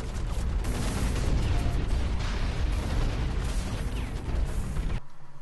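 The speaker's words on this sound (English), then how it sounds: "Just throw all the grenades." Dense, continuous barrage of grenade explosions and rumbling blasts during a battleship assault in the mech shooter Hawken, loud and overlapping for about five seconds before cutting off abruptly.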